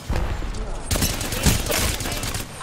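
Heavy gunfire in Apex Legends, a dense, loud barrage of rapid shots and bursts that carries on without pause, with a player speaking over it.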